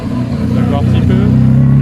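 A Jaguar E-Type runs at the Le Mans Classic 2022, its engine droning loud and close and rising in pitch as it revs, with a person talking over it.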